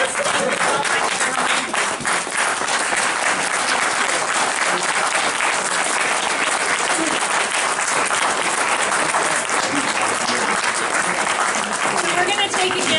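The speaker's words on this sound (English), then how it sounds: "Give us both a round of applause." Audience applause at a candidates forum in the Field Library, Peekskill, NY, steady dense clapping filling the room for the whole stretch, loud and continuous without a break.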